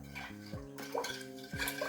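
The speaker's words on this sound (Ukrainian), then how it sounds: "Так, перемішуємо, щоб цукор та сіль розчинилися." Stirring marinade with sugar and salt in a pot on the stove, with close clinks and scrapes of a utensil against the pot over a background hum.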